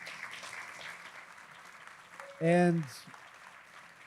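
An audience at a Bitcoin conference panel gives a brief burst of applause, short and fairly loud, with talk before and after it.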